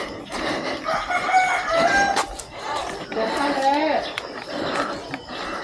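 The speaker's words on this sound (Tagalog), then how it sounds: "Uy, dami manok." A crowd of chickens clucks and roosters crow in a yard on a trip to an island in the Philippines, with drawn-out crows rising and falling at mid-distance under steady background noise.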